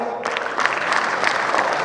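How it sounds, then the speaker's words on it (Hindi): An audience at a talk on Indian tradition breaks into applause, starting abruptly and holding as a dense, steady wash of clapping. "उनके लिए तालियां"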